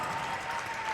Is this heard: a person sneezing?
no